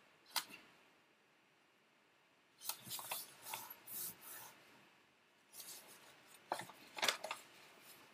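Paper being folded for an origami frog, heard as soft close rustles and creasing rubs in two short clusters with quiet gaps between them.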